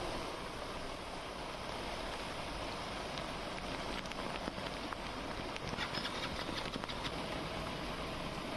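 Heavy monsoon rain pours steadily over Delhi-NCR streets, a dense continuous hiss with a faint engine rumble underneath, no voices.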